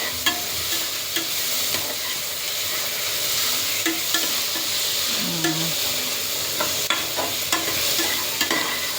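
Ginger and garlic for a chicken gravy sizzle steadily in a hot pan, a constant frying hiss broken by frequent light clicks and scrapes of stirring, close and continuous throughout.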